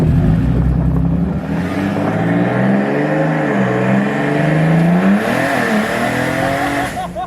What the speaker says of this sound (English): That turbo sounds amazing too, doesn't it?